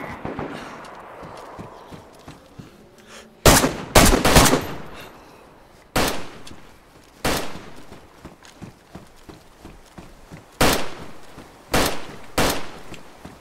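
Loud, sharp bursts of gunfire in the DayZ survival game on the Namalsk map, a cluster of rapid shots followed by scattered single cracks and short volleys spread across the clip, with quiet ambient rustle between.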